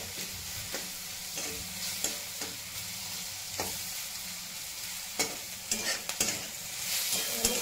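Green chilies fry and sizzle in hot oil in a pan beside steamed potatoes, a steady close hiss broken by repeated stirring scrapes and clacks, with no voices.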